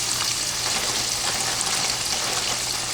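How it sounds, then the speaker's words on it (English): French fries sizzle loudly in hot frying oil, a dense, continuous crackling hiss that stays steady and close from start to finish. "We finna drop the fries now"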